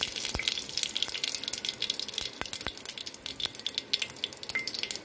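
Mustard seeds and curry leaves sizzle in hot oil for dal, a close crackling fry with scattered sharp pops and spits, steady throughout with no talk.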